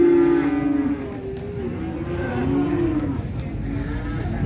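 Simmental cattle at a livestock market in Jetis, Ponorogo, low drawn-out moos over a busy background murmur of the market, fairly close.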